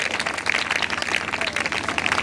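A church congregation claps loudly together during a Christmas celebration service in Barnala, India: a dense, steady patter of many hands that carries on throughout with no one speaking.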